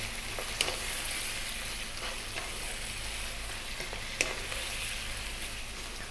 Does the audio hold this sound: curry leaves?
yes